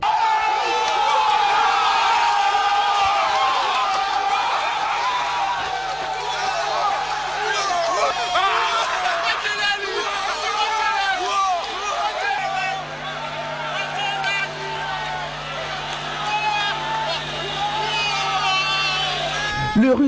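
A dense street crowd celebrates a football goal after a Rwanda versus DR Congo match, with cheering, whoops and shouting throughout, while a steady horn-like tone sounds in the background and voices chatter underneath.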